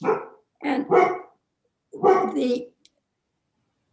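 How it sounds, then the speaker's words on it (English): A dog barks nearby in a few loud, separate bursts, two quick barks then a longer one after a pause, with a brief word spoken between them. "excuse me, that's my dog."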